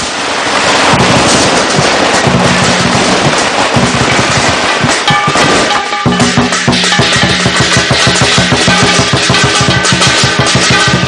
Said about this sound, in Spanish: En el barrio chino, los fuegos artificiales anuncian el comienzo del Año Nuevo chino